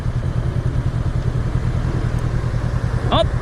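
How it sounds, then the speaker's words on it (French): Honda PCX 125 scooter from 2022 idling steadily with a low, even engine throb, then cutting out near the end under its idle-stop system, leaving near silence. "Je vais rester comme ça et le moteur va se couper."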